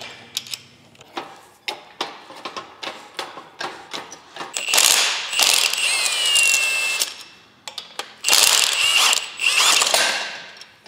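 Ratchet wrench bolting a transmission onto the engine of a Mitsubishi Evo 8 under restoration in a garage: a run of quick, close metallic clicks, then longer loud bursts of rapid ratcheting with no talk.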